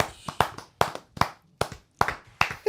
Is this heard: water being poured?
no